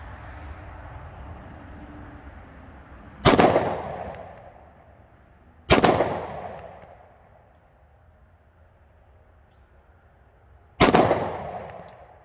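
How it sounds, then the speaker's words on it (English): Three loud, sharp reports from a Springfield XDM Elite 10mm pistol fired at close steel targets outdoors in woods, spaced several seconds apart, each with a decaying echo over quiet background noise. "So we'll just shoot some steel up close for now."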